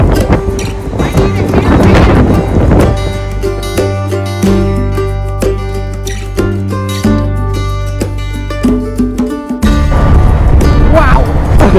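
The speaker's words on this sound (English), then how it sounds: "it is extremely windy up here." Loud, buffeting wind roars against the microphone in strong gusts on the summit of Mount Washington, low rumbling throughout, with a brief lull before it surges again.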